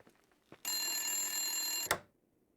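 Telephone ringing in the horror video game Tales of Horror: The Suicide of Rachel Foster, a single long electronic bell ring lasting over a second, loud and close, cut off sharply by a click, then quiet.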